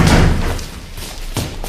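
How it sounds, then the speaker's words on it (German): Heavy blows against a door: a loud slam at the start, a fainter thud near the end, with a low boomy rumble in between. "Jemand schlägt gegen die Tür."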